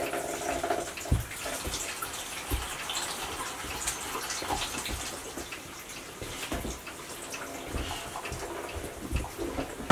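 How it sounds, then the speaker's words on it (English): Soaking water drains off white and red beans for French market soup in a tiny-house kitchen, making a steady splashing trickle with occasional gurgles and clunks that runs throughout. "I'm just going to actually drain off the extra water that they were soaking in"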